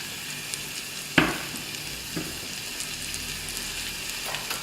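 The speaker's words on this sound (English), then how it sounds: "So we'll fry this until it becomes soft and translucent." Onions frying in a pan, a steady close sizzle that continues throughout, with one sharp clack of a utensil and a few faint stirring scrapes.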